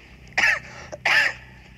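Two short, sharp coughs close to the listener, separated by a brief pause, over a faint low hum.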